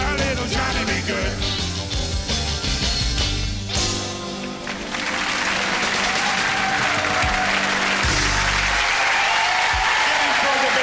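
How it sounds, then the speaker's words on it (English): A live audience at a comedy variety show bursts into sustained, loud applause with cheering, following the tail end of a band's music, and a voice speaks over the clapping. "Give him for a big round of applause."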